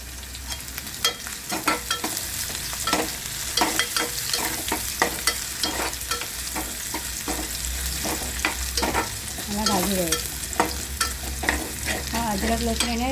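Ginger-garlic paste and chopped raw turmeric frying in a pan, a constant hiss of sizzling oil broken by rapid, irregular clinks and scrapes of a spoon stirring, close and fairly loud.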